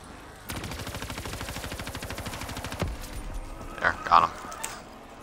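Rapid automatic gunfire in COD Zombies, a dense fast burst lasting over two seconds, loud and close, then a couple of sharper isolated shots and effects after it stops.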